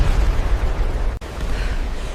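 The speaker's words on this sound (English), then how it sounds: "The explosions are so close I can taste the sand" Continuous heavy rumbling battlefield explosions at Normandy, loud and dense with deep low-end booms, with a brief sudden dropout midway before the barrage resumes.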